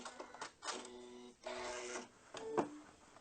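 A Janome sewing machine runs several short bursts of rapid mechanical stitching to lock the stitch, close and quiet, with brief pauses between the runs.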